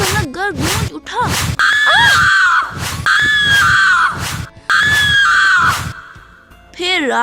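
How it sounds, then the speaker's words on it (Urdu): A man in an animated folk tale, hung upside down from a tree and beaten with a stick, lets out repeated loud, anguished wailing screams in rising and falling bursts, close and dominant throughout. "اس کی چیخوں سے سارا سنک گڑھ گونج اٹھا"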